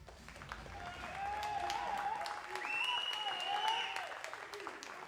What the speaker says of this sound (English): your big applause for the athletes